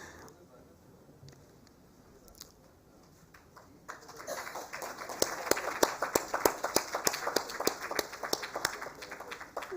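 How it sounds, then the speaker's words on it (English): An audience at an award ceremony bursts into a sustained round of applause midway through, the dense clapping building and continuing loud to the end after a quiet start. "Thank you for automatically giving the round of applause"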